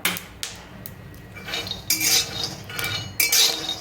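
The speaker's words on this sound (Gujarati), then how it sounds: "સિંગના દાણા શેકી લેવાના" Peanut kernels roast in a pan, shuffled with a metal spoon in bursts of scraping and clinking against the metal, with the rattling coming in short irregular passes.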